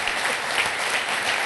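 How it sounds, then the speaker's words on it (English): Audience at a panel discussion on the new gTLD application process applauds, steady dense clapping from a crowd, moderately loud and continuous throughout. "Round of applause, everybody."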